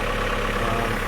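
A car's exhaust drones steadily at a constant low pitch, a short, unbroken and fairly loud rumble with no other sounds.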